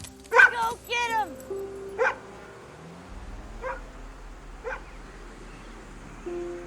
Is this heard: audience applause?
no